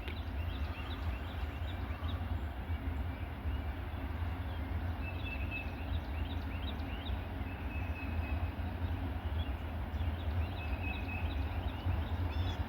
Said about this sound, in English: No, it's got some tank cars and stuff on there. It's a manifest.